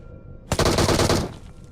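Automatic gunfire in the BGMI mobile battle royale game: one rapid burst of closely spaced shots lasting under a second, loud and sharp against a quiet background.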